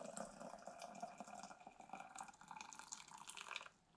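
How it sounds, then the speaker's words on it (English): Tomato sauce is poured into a canning jar, giving a few seconds of close, gurgling liquid splashing that stops abruptly at the end. "I think I can just pour it in from here."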